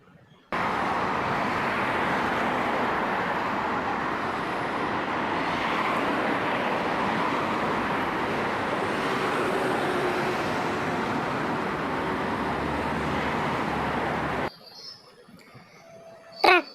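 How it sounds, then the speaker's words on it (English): A bus sends out a steady, loud road roar that holds evenly for about fourteen seconds, then cuts off abruptly into quiet. "Bus,"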